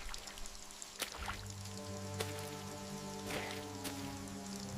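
Steady rain falls through dark streets, a continuous soft patter under a low hum, with a few sharper drips or knocks breaking through.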